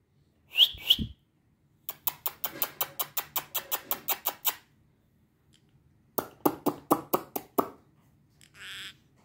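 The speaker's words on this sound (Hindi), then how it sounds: "तो सीटी मारो सीटी" A person whistles in a quick run of about a dozen short, sharp chirping notes, then a second burst of about eight more after a pause. The whistles are close and fairly loud, with a faint hiss at the end.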